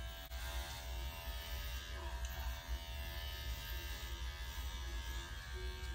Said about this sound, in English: Using my 7 blade, going from about an inch past the skull down to the tail, I'm going to clip her straight back with the lay of the coat